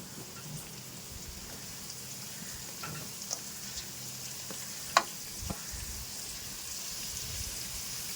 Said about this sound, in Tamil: நம்ம வெட்டி வச்சுருக்க வெங்காயத்தை சேர்த்து நல்லா வதக்கிக்கலாம்